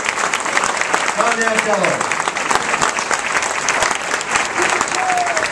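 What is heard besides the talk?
audience cheering and applauding at hall of fame dinner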